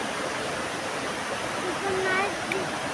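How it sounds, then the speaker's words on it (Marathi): A village river flows with a steady, loud broadband rush of water that fills the whole clip, with a brief faint voice-like tone partway through. "अशा पद्धतीची अशी आमची नदी आहे"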